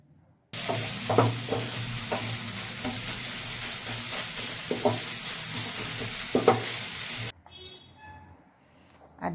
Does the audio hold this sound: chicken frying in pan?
yes